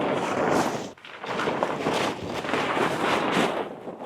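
Strong wind gusts roar across an outdoor farm after storm damage, buffeting the microphone in loud, continuous waves with one short dip.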